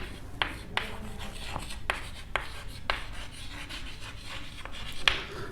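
Chalk or marker scratching across a board during a physics lecture, with steady rubbing strokes broken by sharp taps and short pauses, close and clear with no talking.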